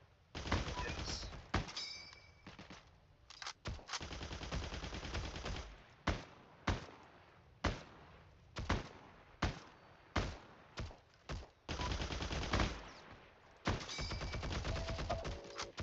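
Bursts of gunfire from the World War II shooter game Heroes & Generals, some rapid and automatic, others single sharp shots. The bursts repeat at a loud, close level, separated by short gaps.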